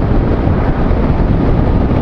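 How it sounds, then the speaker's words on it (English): Strong gusty wind buffeting the microphone on the Florida Gulf Coast, a loud, constant low roar with rough rumbling and no let-up. "the wind is really kicking up right now"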